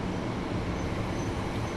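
A passenger train pulls in on the Southern route in Train Sim World 2020, a steady, loud rumble of wheels and engine noise holding at an even level throughout with no talk over it.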